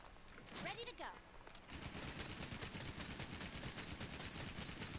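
Special ammo fired in rapid succession from a bowgun-type weapon in Monster Hunter World, a dense, continuous barrage of loud shots from up close, with game effects and a voice talking over it.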